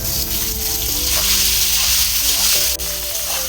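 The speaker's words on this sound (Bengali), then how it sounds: "আলু বেগুন ভালো করে লাল করে আবার ঢেকে ভেজে নেব" Potato and eggplant chunks fry in hot oil with a loud, close, continuous sizzle, broken by a brief scrape or stir near the end.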